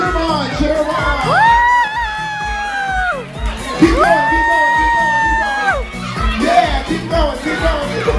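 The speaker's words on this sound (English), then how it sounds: "Cheer them on, cheer them on!" Children at a seventh birthday party cheer on a hula hoop contest: a close, loud, continuous wave of excited shouting and whooping with long high-pitched yells rising over the crowd.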